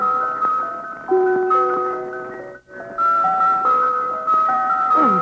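Wind-up revolving birthday cake plate plays a tinkling music-box tune, steady bright plucked notes in a repeating melody with a brief pause midway, close and clear with no talking.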